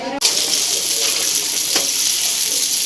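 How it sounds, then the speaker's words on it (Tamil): Fish fries in a pan on a home stove, a loud, steady sizzle and crackle that starts abruptly and carries on unbroken. "ஃபிஷ் வந்து வறக்க போகிறோம்"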